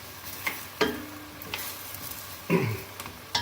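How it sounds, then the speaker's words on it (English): Squash soup boiling down in a pot, a steady bubbling simmer with a few sharper clatters and stirring knocks over about three seconds, no voices. "you see how that's boiling away?"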